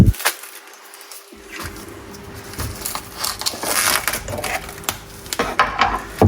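Fresh pasta dough being wrapped tightly in cling film, giving close crackling and crinkling plastic rustles in irregular bursts, loud and alone.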